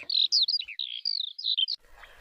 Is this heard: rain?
no